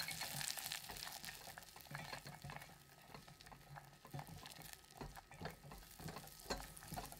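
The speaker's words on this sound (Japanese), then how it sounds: "ローストしてあるアーモンドですね、これを加えてキャラメルを絡めていきます" Roasted almonds are stirred into buttery caramel in a pan, a quiet continuous sizzle with soft scraping and clicking of nuts under a spoon throughout.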